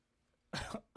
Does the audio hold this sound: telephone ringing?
no